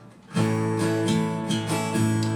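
Acoustic guitar strummed in a simple, steady down, down, up, down, up pattern of repeated chords, up close and clear with no voices.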